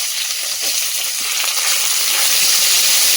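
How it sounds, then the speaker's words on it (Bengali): Whole cumin, chopped onion, garlic and slit green chillies frying in a pan give a steady, close, loud sizzle with no break and no voices. "এগুলো একটু ভালো করে ভেজে নেব।"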